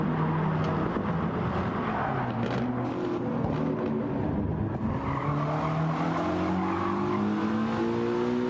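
Cluster of race cars in a sim racing game at Tsukuba, several engines whining and rising in pitch together, tires squealing through corners, loud and continuous with no voices.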